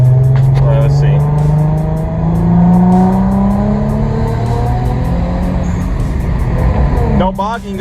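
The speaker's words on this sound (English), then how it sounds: "Car's actually revving really good right now." A rear-mount turbo Infiniti G35 driving with its engine revving loudly from inside the cabin, the rising, sustained engine tone dominant throughout, with voices talking over it.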